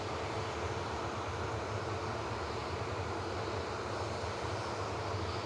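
A Jet2 airliner powers up and rolls for takeoff at Manchester Airport, a continuous broad roar of engine noise heard from a distance, steady and unbroken throughout.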